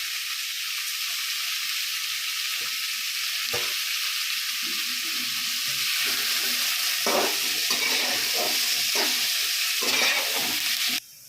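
Tomato, curry leaves and coriander sizzle steadily in hot oil in a pan, with a continuous loud hiss and repeated scraping stirs growing busier toward the end; no talking.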